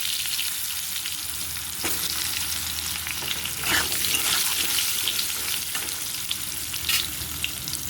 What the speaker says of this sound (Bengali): এবার মাছ ভাজার তেলের মধ্যে দিয়ে দেবো টুকরো করে কেটে রাখা আলু আলুগুলো একটু লাল লাল করে আমি ভেজে নেবো